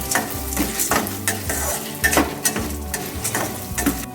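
Chana dal is roasted in a pan over a low flame for banana stem chutney, with a soft continuous sizzle and rhythmic scraping strokes as a spoon stirs the lentils close up.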